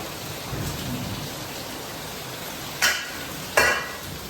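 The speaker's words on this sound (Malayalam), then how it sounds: "പുറത്ത് നല്ല സൂപ്പർ മഴയാണ്" Heavy rain pours steadily with a low rumble, and two sharp, loud cracks of thunder break through near the end.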